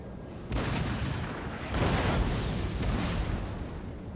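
Cannon fire from a Napoleonic battle in the Napoleon: Total War video game sounds as three muffled, rumbling booms, fairly faint and spaced about a second apart.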